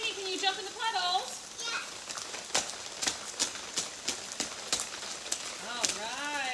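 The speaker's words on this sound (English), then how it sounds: "It's raining." Steady patter of rain with sharp splashes and drips at uneven intervals, while children's voices chatter and squeal over it.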